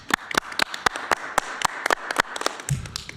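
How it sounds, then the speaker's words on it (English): A small group of commissioners applauds in a meeting room, a sparse, uneven round of separate claps close by with no talk. "And then the commissioners will applaud Rolando."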